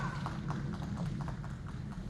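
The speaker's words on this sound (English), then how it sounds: "Getting your horse to trot while in position" Hooves of a horse trotting in a showmanship class clip-clop in a quick, steady rhythm over a constant low rumble of the arena, moderately near.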